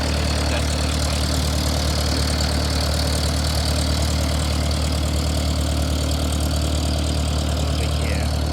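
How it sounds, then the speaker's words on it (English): A small single-propeller plane idles at a regional airport, its engine giving a steady, continuous low drone with a constant buzzing hum that stays even throughout, with no voices. "a small propeller plane with one propeller."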